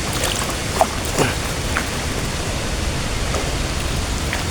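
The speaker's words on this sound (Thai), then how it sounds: "ยังเหลือแต่ฝน" Dense, steady hiss of rain falling, broad and constant, with a few faint knocks and drips standing out; no one speaks.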